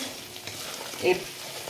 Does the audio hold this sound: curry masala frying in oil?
yes